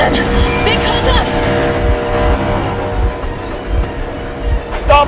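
A locomotive engine in Metro Exodus rumbles loudly and steadily, a heavy low drone with mechanical rattles, while voices talk over it.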